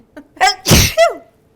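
A single sharp, loud sneeze up close, with a quick intake of breath before it and a brief vocal tail after.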